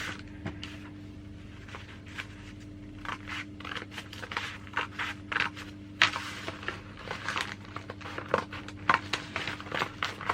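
Scissors cutting through folded newspaper, producing a series of close, crisp snips and crunches at an uneven pace, growing busier toward the end.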